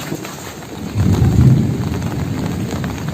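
Heavy rain pours steadily in a broad, dense wash, swelling louder after the first second and then holding at a constant roar with no voices.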